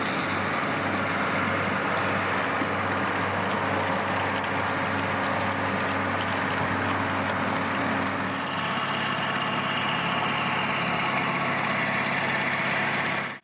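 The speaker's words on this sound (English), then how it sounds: "Just listen to that Cat V8." A Caterpillar V8 engine in a Massey Ferguson tractor runs at a steady, loud, droning pitch throughout, with a slight drop in tone partway through and no talking over it.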